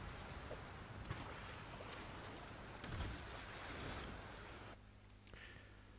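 River water flowing in the survival game Flame in the Flood, a constant faint rushing wash of current and wind with a brief swell midway, quieting near the end.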